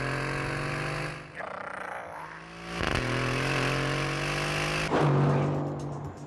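An Aston Martin Vantage engine in The Grand Tour Game revs loudly and gravelly with a steady low drone, dipping briefly and then surging twice in sharp throttle blips, all close and with no talk over it.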